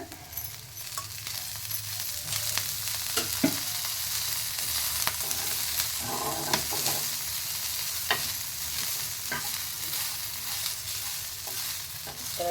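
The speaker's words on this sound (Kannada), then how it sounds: "ಇದಕ್ಕೆ ಸ್ವಲ್ಪ ಎಣ್ಣೆ ಹಾಕ್ತೀನಿ ಎಣ್ಣೆ ಹಾಕಿ ಫ್ರೈ ಮಾಡೋಣ" Cluster beans fry in oil for a North Karnataka-style palya, a continuous close sizzle with repeated scraping stirs of a spatula against the pan, and no voices.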